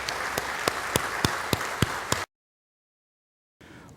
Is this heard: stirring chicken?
no